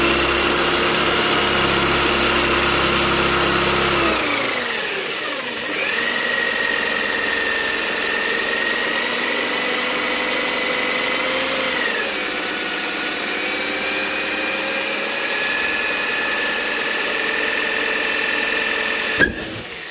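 A power drill with a drill bit bores a hole into a Vestax PDX turntable, a steady motor whine that drops in pitch and strains as the bit bites, ending with a sharp click.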